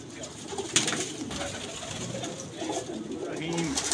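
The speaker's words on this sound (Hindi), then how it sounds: "देखे टैडी कबूतर" A teddy pigeon coos in low, rounded bursts amid faint outdoor background noise, with a couple of sharp clicks near the start and a fuller coo toward the end.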